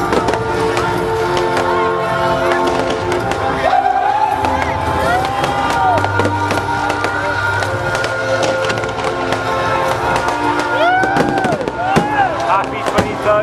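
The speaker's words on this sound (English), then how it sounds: "around about 500 fireworks" Fireworks display over the water at a reggae bar's 23rd birthday celebration in Thailand, with roughly 500 fireworks; continuous crackling bursts and whistling rockets rise above a busy crowd, with people talking throughout.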